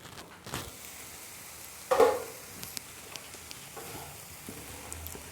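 Vegetables cooking in a pan over a low flame for a school lunch-box breakfast, with a faint, steady sizzle broken by a few soft stirring scrapes and taps close by.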